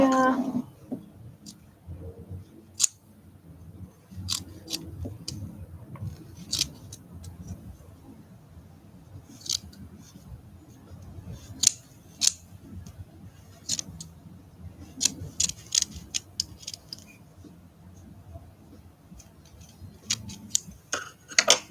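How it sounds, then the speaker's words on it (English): Scissors trim excess material from a leopard gecko art doll, giving scattered sharp snips and clicks at irregular intervals over a quiet low background hum, close and fairly faint. "So I'll trim some of the excess off here."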